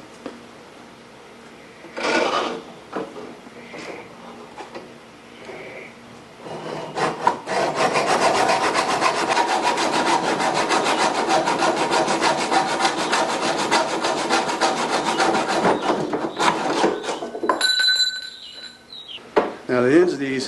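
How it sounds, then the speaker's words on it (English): A simple hacksaw cuts wood for a garden trellis, starting with a few scattered scrapes before a long, loud, steady run of rapid rasping strokes, then a brief metallic clink and a few final strokes. "Okay, just a simple hacksaw."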